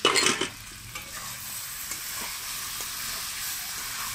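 Chicken and potato pieces stirred and fried in a pot for a Bengali dak bungalow chicken curry, giving a close, steady sizzle with a sharper scraping stir at the start and no talking.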